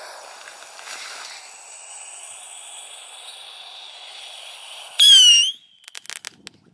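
A small firework goes off after several seconds of steady hiss: one sharp, loud burst with a brief whistling tone, then a scatter of faint crackles and pops as it dies away.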